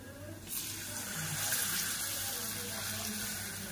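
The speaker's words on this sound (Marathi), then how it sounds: "आता टाकते याच्यात पाणी." Water is poured into a pot of hot oil while cooking, giving a sudden rushing, gushing hiss that starts abruptly and holds steady, with faint speech in the background.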